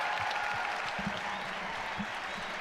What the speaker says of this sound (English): let's get a round of applause for UNICEF.